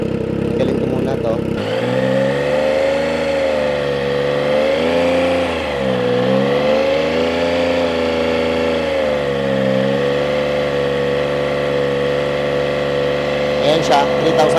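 2025 Triumph Trident 660 fitted with a shorty exhaust, engine starting then revving up and holding around 3,000 RPM, a loud steady close-up drone with rising and falling surges before settling into a sustained tone.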